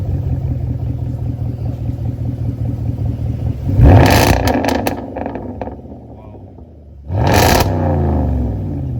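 A BMW fitted with a Corvette engine and a Quicksilver aftermarket exhaust idles with a low burbling exhaust, then revs sharply twice with loud crackling bursts, while people talk nearby.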